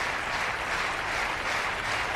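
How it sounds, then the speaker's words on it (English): A stadium crowd at the European Athletics U23 Championships in Espoo, Finland, roars for a Finnish athlete in a loud, steady wash of cheering and applause throughout, with no distinct voices. "So big roars for Kosonen and the rhythmic clapping."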